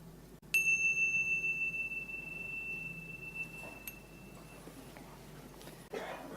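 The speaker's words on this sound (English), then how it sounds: "when you hear the sound of the bell" A single mindfulness meditation bell struck once, a clear bright ding that rings out and slowly fades over several seconds in a quiet room.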